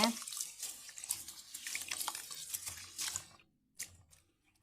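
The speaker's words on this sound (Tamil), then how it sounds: "நல்லா இப்படி அலாசி நல்லா இப்படி கழிஞ்சிடலாம்" Sesame seeds are rinsed and swished in water in a vessel before draining, giving close splashing and sloshing that trails off into a few drips near the end.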